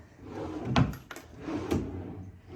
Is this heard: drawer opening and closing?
yes